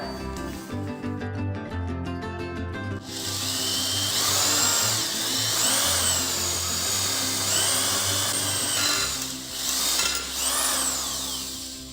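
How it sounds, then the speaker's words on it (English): A core drill bores holes through metal damper plates for a DIY grill vent, its high grinding whine starting abruptly after a few seconds and surging in repeated close, loud bursts. "I will also drill the holes with a core."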